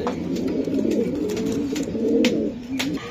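Racing pigeons coo softly and repeatedly nearby, low throaty calls overlapping in a steady murmur with faint clicks and rustles.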